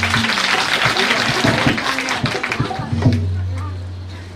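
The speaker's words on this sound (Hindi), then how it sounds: "अनिल शाह जी के लिए एक बार जोरदार तालियां।" Audience applause for Anil Shah at a Hudh Mata jagran, a crowd clapping loudly over a humming sound system, with voices mixed in, fading toward the end.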